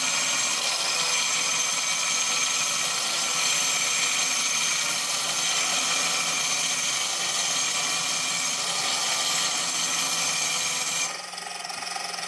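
A Kinkajou wet sander runs with a steady, bright, whirring whine and gritty grinding, holding constant before cutting off sharply near the end, with no voices.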